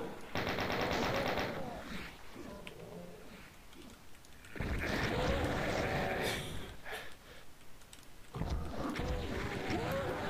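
A chaingunner enemy firing its chaingun in Doom: rapid, loud automatic bursts in several long stretches, mixed with game noise and brief gaps between volleys.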